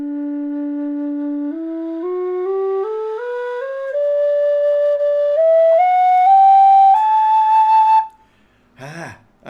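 A Burke D tin whistle plays a slow rising scale of clear, steady notes stepping upward into the second octave, then stops, followed by a brief rustle.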